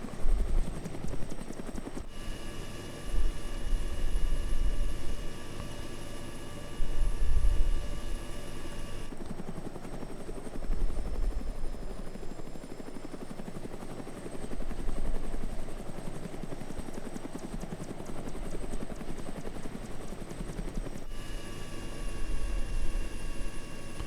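A Russian Mi-8 Hip helicopter flies in the Arma 3 video game over the Chernarus Redux map, its rotor and turbine droning steadily for the whole stretch, with loudness swelling and easing and no voices.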